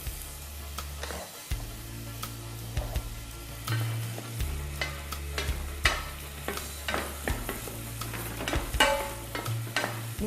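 Bell peppers fry in a pan for a quinoa paella, a soft continuous sizzle with frequent scraping and clacking of a utensil stirring them, close and fairly quiet.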